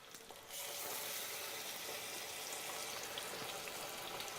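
Food dropped into hot oil in a pot bursts into a bright, steady sizzle that starts suddenly and continues evenly, close but fairly quiet, with no talking.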